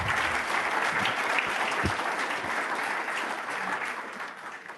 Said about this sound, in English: So if we can give to them a big round of applause.